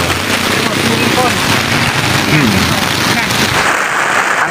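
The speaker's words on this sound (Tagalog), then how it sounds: "Ang sarap ng ulan." Steady, loud rain pours down outdoors by a swimming pool, a dense continuous hiss with scattered splashes and faint voices underneath.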